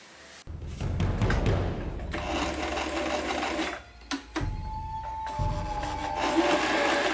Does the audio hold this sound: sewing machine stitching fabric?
yes